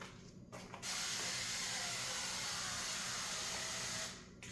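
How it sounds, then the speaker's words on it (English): Avocado oil cooking spray hisses into a skillet in one steady, close burst lasting about three seconds, with no talking. "we're going to spray some avocado oil spray in the skillet"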